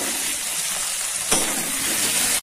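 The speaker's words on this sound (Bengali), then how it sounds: "মাংসের মশলাটা পুরো ভাজা হয়ে গেছে" Spices frying for a meat curry with tomato, green chilli, salt, cumin, coriander and turmeric, giving a steady close hiss and sizzle from the pan throughout, with one brief louder burst partway through.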